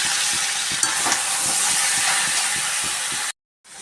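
Vegetables fry with turmeric, chilli and cumin powder in a pan, producing a dense, loud sizzling hiss with soft stirring scrapes that runs steadily, then cuts off abruptly into silence near the end.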